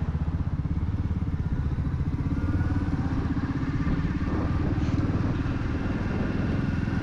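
A motorcycle engine idles steadily nearby, a low, even mechanical pulse that continues unbroken and moderately quiet, with no talking over it.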